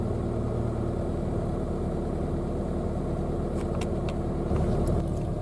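Citroen Saxo engine with an automatic gearbox idling steadily while it warms up, a constant close rumble with faint brief clicks near the end.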